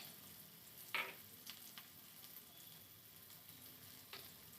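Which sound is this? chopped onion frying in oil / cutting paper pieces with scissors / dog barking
chopped onion frying in oil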